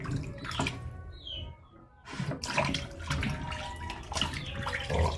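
Water runs and splashes while Adidas shoes are rinsed during cleaning, a close, steady gush that briefly drops away before pouring again.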